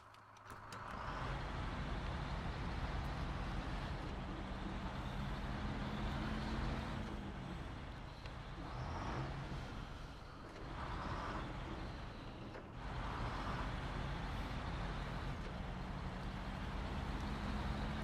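Truck engine in the video game SnowRunner runs at a steady low rumble that rises and falls slightly, with a brief lull partway through and no talking.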